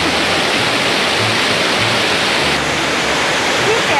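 Shiraito waterfall, a fine white-thread cascade, rushes in a steady dense roar of falling water, close and continuous throughout.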